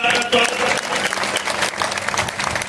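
A crowd claps loudly and continuously at a women's political rally, dense applause filling the whole moment with a faint voice briefly audible underneath.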